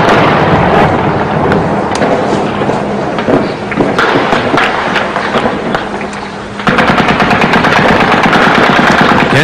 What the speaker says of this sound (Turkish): Humus'ta yine patlama sesleri yankılandı